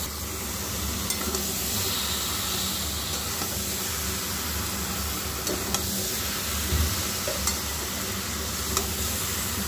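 Marinated chicken and potato pieces sauté in oil and spices in a pot, sizzling and hissing steadily up close while a utensil stirs with occasional clinks and no talking.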